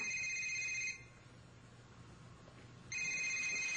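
A telephone rings in two loud electronic bursts, each about a second long with a short silent gap between, steady tonal trill near the listener with faint background hum and no talking.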